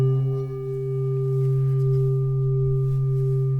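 A struck singing bowl rings with a sustained, shimmering metallic tone and layered steady overtones that hold evenly without fading, with no talking.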